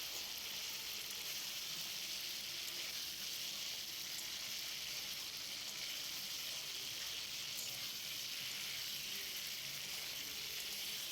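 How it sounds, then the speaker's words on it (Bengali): Paneer sautéed in a spice paste in a pan for a vegetarian paneer dish: a faint, steady hissing sizzle that carries on evenly throughout with no distinct stirring strokes or voices. "এবার পনিরটা দিয়েও আমি ভালো করে কষিয়ে নেব"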